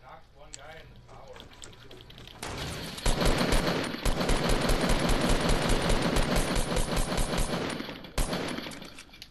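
Rapid automatic gunfire from a multiplayer video game match, a dense steady stream of shots lasting several seconds, loud and close, with players talking over it.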